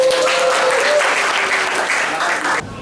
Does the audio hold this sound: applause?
yes